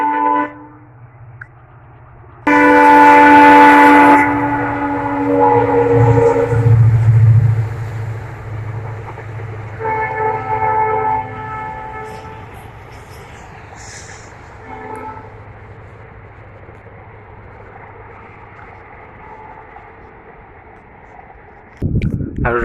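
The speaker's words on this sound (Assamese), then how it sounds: "আৰু এয়া চাওক গাইজ, ট্ৰেইন আহিছে।" A train rolls past near a tea garden in Assam, its horn sounding loud and long early on, followed by a rumbling, clattering passage that fades gradually before a brief loud burst at the end.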